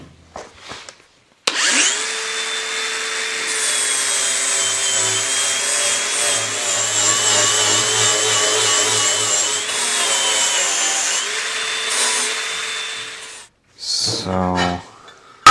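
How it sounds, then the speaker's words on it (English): Power grinder stripping paint from a metal hand truck, a loud continuous whine that starts abruptly, holds steady with slight wavering for about twelve seconds, then cuts off, followed by a brief scrape. "Let's grind the paint off."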